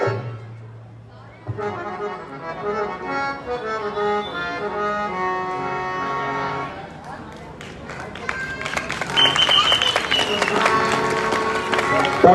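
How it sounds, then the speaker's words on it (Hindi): An audience at an amateur stage play about Shravan Kumar: sustained harmonium-like music plays first, then a swell of clapping builds and grows louder over the final seconds. "जोरदार तालियां"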